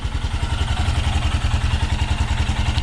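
A Royal Enfield Himalayan single-cylinder motorcycle engine runs after a cold start, a loud close, steady thumping idle with an even, rapid pulse.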